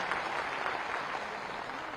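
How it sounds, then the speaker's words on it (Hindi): Audience applause in an auditorium at a community gathering, a steady dense clapping that holds for about two seconds. "मार्गदर्शक सम्मानीय किरण देव जी का भी एक बार जोरदार ताली बजाकर स्वागत करें।"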